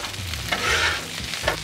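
Onions sizzle and char on a Blackstone griddle beside buffalo chicken, with a loud close hiss that swells in the middle, broken by scraping strokes of a spatula near the end.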